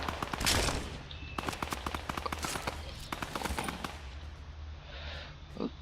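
Gunfire in the Fortnite battle royale game rattles off in quick bursts of sharp shots, loud and close, with a brief pause between volleys and a voice speaking faintly underneath.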